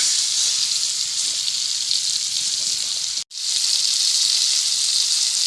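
Surmai fish frying in oil with ginger and garlic, Konkani style, gives a steady, close, bright sizzling hiss that runs throughout with one brief dropout midway.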